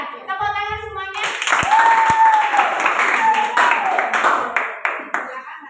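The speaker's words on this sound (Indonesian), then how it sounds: "Tepuk tangan semuanya." A classroom of students breaks into sustained clapping that swells after a brief spoken prompt and carries on for several seconds, with voices calling out over the applause.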